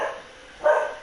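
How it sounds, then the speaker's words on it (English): A dog named Loki gives a single short bark, moderately loud and nearby, after a brief faint yip. "forgot where I was going because Loki's barking now"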